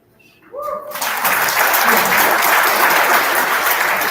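Audience at a comedy night fundraiser breaks into loud, sustained clapping and whooping cheers after a brief quiet moment, filling the room to the end.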